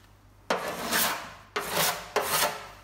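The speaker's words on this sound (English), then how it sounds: "When you're scraping, careful not to get the" Paint scraped off a VW Beetle engine lid with a hand scraper, heard as three long, close, raspy strokes, each starting abruptly and dragging on for about a second, with no talking.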